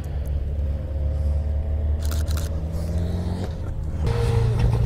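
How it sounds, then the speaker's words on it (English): A Vauxhall Nova race car passes at the Lydden Legends motorsport festival, its engine a steady, loud rumbling drone that shifts and swells near the end as the car goes by, with no talk. "Vauxhall Nova. Escort Mark II. Fiesta Mark II. And finally a Nova."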